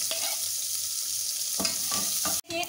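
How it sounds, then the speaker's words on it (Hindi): Chopped onions fry in a pan, a constant bright sizzle broken by a few scraping stirs near the end, with no talking. "हमें इसको इतना फ्राई करना है कि ये ट्रांसलूसेंट हो जाए"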